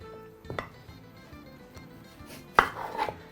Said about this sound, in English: Now we're going to begin this process by chopping up some onions.